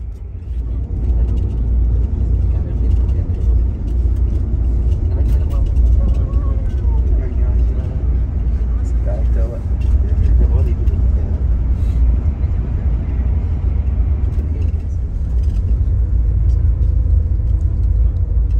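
A Sinar Jaya double-decker bus pulls away, a loud continuous low engine rumble with road noise that holds steady and close throughout, with faint voices under it.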